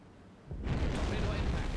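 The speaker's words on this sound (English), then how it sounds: "Torpedo impact." A torpedo impact explosion in the submarine game Silent Hunter 5, heard as a sudden deep, rumbling boom that swells after a quiet moment and keeps roaring loudly to the end.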